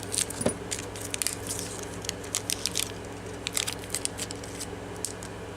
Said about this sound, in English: Let's rip this open and take a look at them.